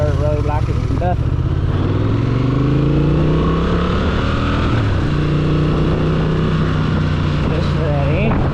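A 2025 Honda Transalp motorcycle engine hums steadily while riding over a rough dirt road at around 30 mph, its pitch rising and settling under continuous wind noise, with a rider talking over it.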